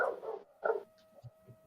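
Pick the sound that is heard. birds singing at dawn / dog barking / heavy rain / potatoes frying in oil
dog barking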